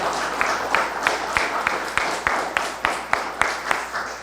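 Audience applause at a Korean business seminar, a crowd clapping for the company CEO, with a steady wash of many hands and a few sharper individual claps standing out in a regular rhythm.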